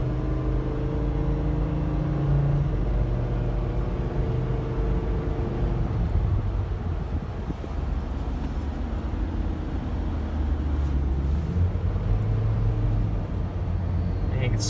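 A 2008 Hummer H3 engine drones steadily as the truck accelerates down the road, a continuous low rumble mixed with road and wind noise, loud and close throughout.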